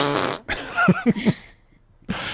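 A man imitates fart sounds with his mouth, a short series of three or four low, buzzing sputters that swell and pop in quick succession, close to the mic between louder bursts at either end.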